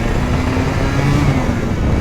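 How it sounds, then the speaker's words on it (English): A 1986 Yamaha TZR250 1KT/2MA two-stroke motorcycle engine is held at steady throttle as its revs climb into the power band, a loud, close, continuous buzzing drone with no talk over it. "I hold the throttle steady there, so you can hear the change in RPM going into the power band"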